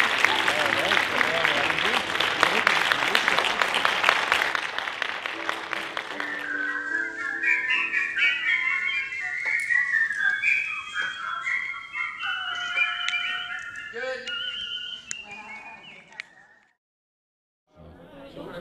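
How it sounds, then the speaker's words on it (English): The 2012 men's grand champion whistler performs a melodic whistled tune at a competition, clear and sustained, starting under loud crowd applause that fades as the whistled phrases carry on alone. "a small gathering of whistlers who were bonding over their common passion for what may seem like a silly thing to many: whistling"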